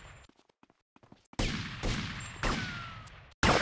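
Gunfire from the GTA Vice City video game during a police station attack: a few quiet clicks, then a loud burst at about 1.4 seconds, further sharp shots, and a final blast near the end, each ringing out with a short decay.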